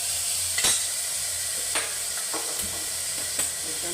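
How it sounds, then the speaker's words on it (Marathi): Green moong beans tossed with turmeric in a hot pan give a steady low sizzle, with a few sharp scrapes of a spoon against the metal. "हळद चांगली झाली की हे मी मूग घालते. आधी चांगलं परतून घेतलं की"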